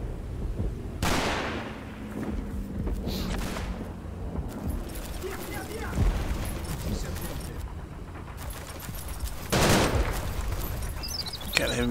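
Heavy machine guns fire in the Combat Mission Fortress Italy war game: sharp, loud gunfire bursts and rattling volleys recur across the scene, mixed with distant booms and battlefield clatter.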